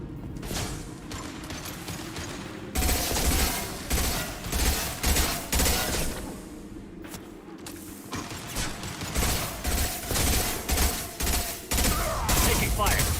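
Dense, continuous gunfire from a Mass Effect 2 firefight, rapid bursts and volleys crackling without pause, loud and close, with mechanical clatter layered through the whole stretch.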